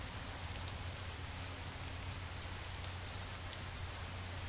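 Steady rain falls throughout, a dense continuous hiss of drops hitting surfaces with a low rumble beneath, even in level and with no voices.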